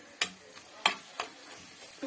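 A spoon stirs shakshuka without onion in a pan, a few distinct scraping clinks over a faint sizzle, close and sparse.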